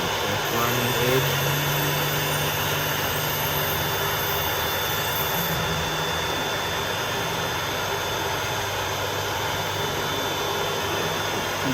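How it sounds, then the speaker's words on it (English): A ReSharp knife sharpening machine at a hardware store grinds a knife edge, a steady high whirring grind that holds loud and even for the whole stretch, with a brief shift partway through. "That's grinding the edge."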